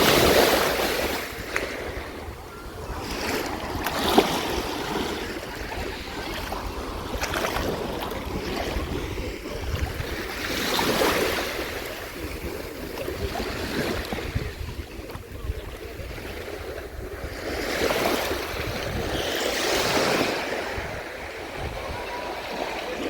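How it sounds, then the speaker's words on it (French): Wind and surf at a beach roll in waves of rushing noise, swelling and fading every few seconds, with heavy wind buffeting on the microphone throughout and no clear talk. "On entend moins le vent."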